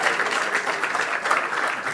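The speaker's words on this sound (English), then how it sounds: "Ladies and gentlemen, let's give them a round of applause." A workshop audience claps in a round of applause, a dense even patter of many hands sustained throughout, moderately close.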